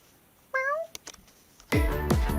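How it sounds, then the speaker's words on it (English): A pet cat sitting inside a washing machine gives a rising meow, a few soft knocks follow, then two louder, drawn-out meows close by. "What are you doing in the washing machine?"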